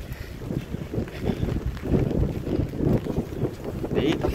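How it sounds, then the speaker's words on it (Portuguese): Strong gusts at night in Porto, Portugal buffet the microphone in a continuous, rough roar that swells and eases, loud and close, with no other clear sounds. "Eita, tá forte o vento"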